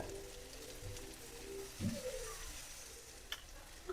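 Chopped tomatoes and salt being stirred into a squid stuffing in a pan: a faint, continuous sizzle with soft scraping stir strokes and an occasional light tap.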